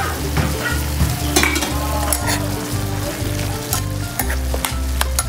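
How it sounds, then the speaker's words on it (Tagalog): Spicy litob being stirred in a pan, a steady loud sizzle with repeated scraping strokes of the spoon throughout, close and continuous with no talking. "Haluin muna natin mga karaki."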